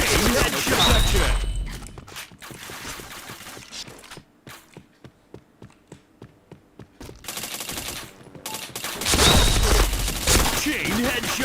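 Rapid bursts of shooter video game gunfire crackle in clusters, with a run of evenly spaced single shots in the middle, while someone talks over much of it.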